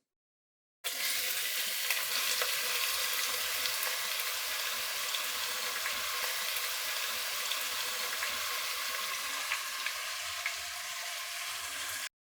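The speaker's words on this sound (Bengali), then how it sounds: "পেঁয়াজটা নরম হয়ে আসা পর্যন্ত এগুলোকে একটু ভেজে নিলাম।" Chopped onions and spices fry steadily in a pan for beef liver bhuna, a continuous close hiss of sizzling oil with no voices, running evenly from start to finish.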